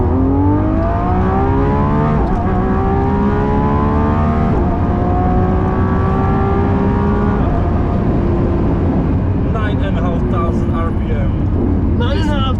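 A Lamborghini hybrid hypercar engine revs hard up toward 9,500 RPM, loud and close, its pitch climbing in repeated rising sweeps before dropping back, with voices talking over the roar.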